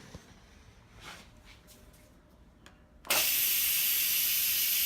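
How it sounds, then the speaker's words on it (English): An Instant Pot electric pressure cooker, just finished cooking a low-carb chicken and vegetable soup, vents steam: quiet room tone with faint clicks, then a sudden loud, steady hiss bursts out and holds strongly to the end. "Instapot just went off, so now we're gonna release the steam."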